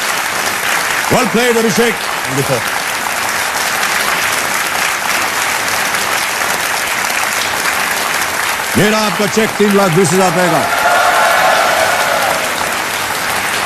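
Steady applause from a studio audience at a televised quiz show continues throughout, loud and dense, while someone speaks over it in Hindi.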